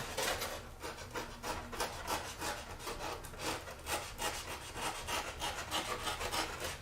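A knife trimming a part for a model Horten Ho aircraft, close, quiet, rhythmic scraping strokes repeating steadily at about two per second, with no talking.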